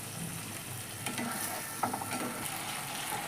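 Paneer masala is stir-fried in a pan over lowered heat, giving a quiet steady sizzle with light, irregular scraping and clinks from the spatula.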